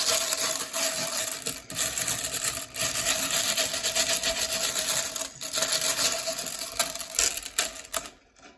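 Cheap novelty fair beads being handled and rubbed, giving a dense, continuous rattling clatter up close with a few sharp clicks and brief pauses before it trails off at the end.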